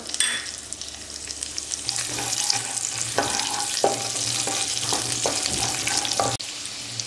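Coarse coriander seeds and two green chillies sizzle in hot tempering oil for a Khandeshi brinjal bharit, a steady loud frying hiss with several sharp clinks of a spoon stirring through it.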